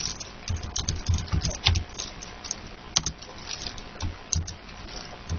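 Fast, uneven keystrokes on a computer keyboard as Python code is typed, a steady run of close, crisp clicks with a few louder taps and no talking.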